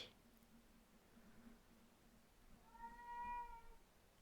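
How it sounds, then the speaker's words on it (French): A small cat gives an unhappy, drawn-out meow near the end, a single clear cry over a faint low hum in an otherwise quiet room. "Oh, bah dis donc, ça c'est du petit chat malheureux."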